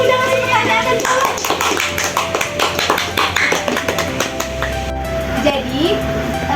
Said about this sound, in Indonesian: Beri tepuk tangan dulu dong buat teman-teman yang udah ngasih pertanyaan dan jawab.